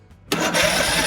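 An engine whose dead battery has just been recharged cranks over abruptly after a quiet start, settling into a loud, steady churning close by, with no talk.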